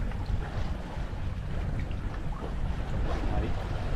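A sailboat glides fast over calm, swell-free water in strong wind, giving a steady broadband rush of wind and water hiss with low rumble throughout, close and continuous.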